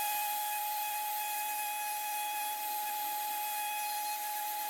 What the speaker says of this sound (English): So I'm gonna try sand with this one and see how I get in there